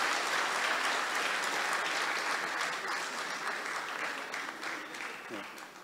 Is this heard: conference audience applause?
yes